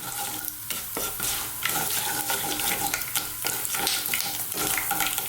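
Whole spices crackle and splutter in hot oil for a beef curry, a steady dense sizzle with scattered sharp pops, close and continuous throughout.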